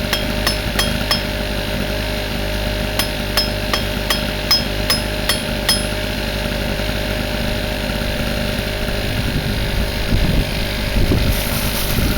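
Hot metal is hammered flat on an anvil, with a run of sharp ringing strikes in a quick irregular rhythm over a steady engine-like drone, then the blows stop and the drone continues.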